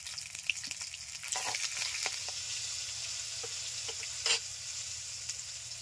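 Dried chillies, nigella seeds and ginger sizzling in hot oil for a tempering, a steady close crackle with a few sharper pops and occasional stirring scrapes, no voices.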